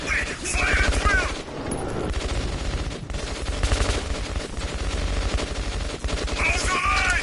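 Gunfire in the Metro 2033 video game, with dense bursts of rapid automatic shots and single cracks ringing out close and loud in a sustained firefight, with shouting voices mixed in.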